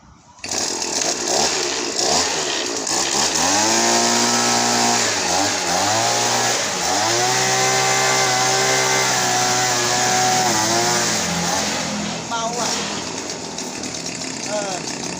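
A small gasoline engine on a used Hitachi leaf blower runs loud and steady, its pitch rising and dipping as the throttle is worked, with a brief sputter near the end.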